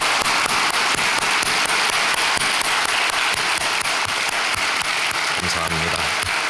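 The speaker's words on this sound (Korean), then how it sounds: "우리 다시 한번 뜨거운 박수로 격려하겠습니다." Warm applause from a church congregation encouraging a uniformed middle school group, a loud, steady crackle of many hands clapping throughout, with a short voice near the end.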